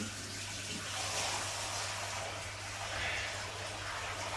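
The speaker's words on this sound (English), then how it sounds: "pouring all the water in there away" Water being poured out of a fish tank, a steady soft rushing and splashing flow that continues throughout at low volume.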